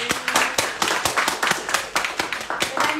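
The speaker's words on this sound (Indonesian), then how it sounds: "Tepuk tangan dulu, tepuk tangan." Audience hands clap in a quick, steady rhythm at a live cast event for the film Adagium, sharp claps repeating several times a second and fairly close throughout.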